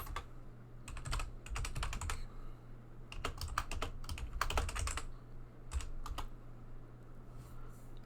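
Code being typed on a computer keyboard during a programming lecture, with bursts of rapid key clicks separated by short pauses over a steady low hum.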